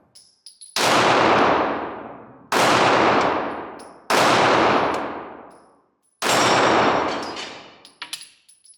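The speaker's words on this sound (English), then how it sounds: "Let's do some more shooting and I'll try to hit those flappy paddles over there." A Glock 43x pistol firing at steel flappy paddle targets outdoors: four loud, separate shots, each with a metallic clang that rings and fades over about a second, spaced irregularly across the stretch.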